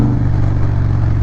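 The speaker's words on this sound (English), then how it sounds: "just listen to that exhaust" A 2017 Harley-Davidson CVO Breakout motorcycle's exhaust rumbles steadily and loudly, close by, with a dense low throb that holds even for the whole short stretch.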